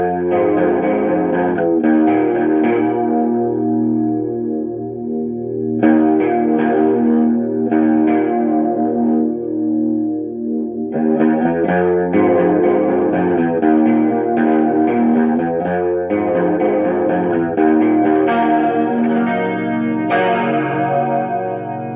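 A distorted electric guitar dialed in to mimic a band's tour tone plays loud, continuous chords and riffs with chorus-like shimmer, dropping out briefly between phrases and playing alone without talk.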